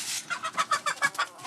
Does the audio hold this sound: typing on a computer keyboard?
no